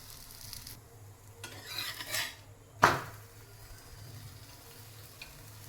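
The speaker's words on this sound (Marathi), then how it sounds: "तवा गरम झालेला आहे थोडंसं मी याच्या तेल घालणार आहे अगदी अर्धा चमचा तेल घातलेला आहे आणि त्याच्यावर आता आपण हा पराठा घालणार आहोत" Oil being spread on a hot tawa before a paratha goes on, with a quiet sizzle, a few scraping strokes and one sharp metallic clank near the middle, close by and without speech.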